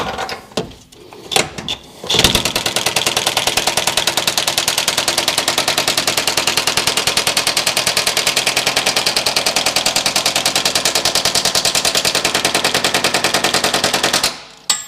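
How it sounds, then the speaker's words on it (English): An impact gun tightens a bolt while a Synergy track bar and sector shaft brace go onto a Jeep Wrangler JLUR. A few short bursts lead into a sustained, rapid, loud hammering rattle lasting about twelve seconds, close by. "We're going to start it with the impact gun"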